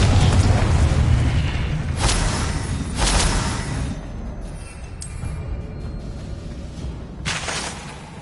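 Confringo fire-blast spells in the video game Hogwarts Legacy land as a run of heavy booming bursts with whooshing tails, loud and close, separated by short pauses and followed by rumbling debris.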